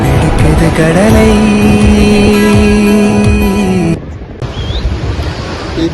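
Athirappilly waterfall roars as a loud, steady broadband rush, with strong tonal bands through the first four seconds, then a sudden drop to a softer, continuing wash of falling water.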